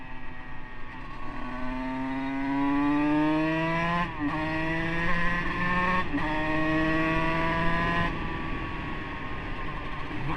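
A Husqvarna 125 SMS supermoto fitted with a 144cc kit accelerates hard, its two-stroke engine note rising steadily through gears with brief dips at each shift, loud and close throughout with no talking.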